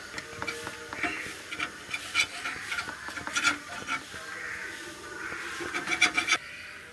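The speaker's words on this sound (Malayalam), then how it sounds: "കറി നന്നായി തിളച്ച് വരുന്നുണ്ട്" Kerala-style tuna fish curry with chopped tomatoes and green chillies boiling in a pan, giving a steady run of light ticking bubbles and soft pops, close and fairly quiet, with no talking.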